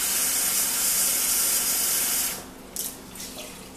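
Water from a kitchen tap pours steadily and loudly into a measuring cup for cooking rice, then cuts off, followed by a few brief splashes and drips.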